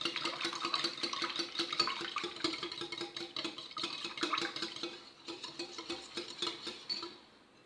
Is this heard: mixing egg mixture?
yes